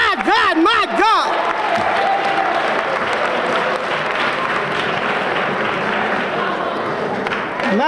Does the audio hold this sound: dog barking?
no